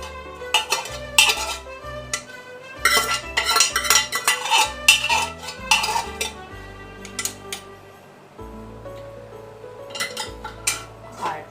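Mutton for a Bengali mutton kosha is added to a pot and stirred. A metal spoon clanks and scrapes against the pot in irregular bursts, close and fairly loud, thinning to lighter taps toward the end.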